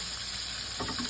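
Cajun-seasoned shrimp sear in a hot pan with a steady, close sizzle and hiss, and a brief stirring clatter toward the end.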